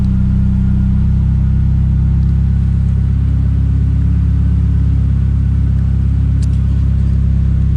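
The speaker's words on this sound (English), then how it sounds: "look at that big cam idle." Tuned 450whp Ford Fiesta ST engine with a big cam idles loudly and close by, a steady lumpy rumble that holds throughout with no talking.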